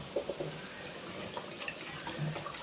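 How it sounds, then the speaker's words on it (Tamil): Water is poured into a pot while cooking pongal, a soft, fairly quiet trickling splash with a few small sloshes. "நல்லா மீடியமான தண்ணி ஊற்றிக்கலாம்"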